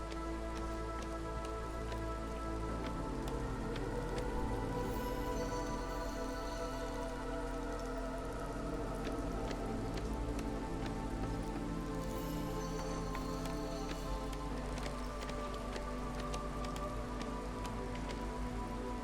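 Light drizzle falling steadily in the Against the Storm video game, a soft continuous patter of raindrops under layered game music, holding at an even level throughout.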